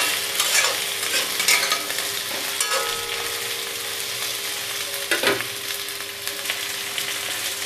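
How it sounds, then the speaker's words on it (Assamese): A spatula stirs potato and pointed gourd pieces frying in oil in a pan, giving a steady close sizzle with occasional louder scrapes and clatters. "আলু পটলখিনি ইয়াতে বঢ়াই দি দিছোঁ লৰাই দিছোঁ এইখিনিও ভালদৰে মই ভাজি ল'ম"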